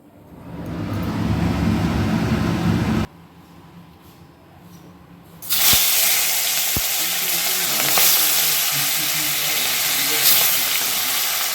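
Hilsa fish fries in hot oil with a loud, dense sizzle that drops away briefly for a few seconds, then returns even louder and hissing, with a couple of sharp clicks from the pan.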